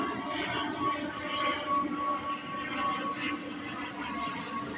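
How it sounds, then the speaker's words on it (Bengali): A train rolling past at a distance, giving a steady, moderate rumble with a faint ringing tone over it that lasts the whole five seconds, without any clear speech. "এই দেখো ট্রেন যাচ্ছে।"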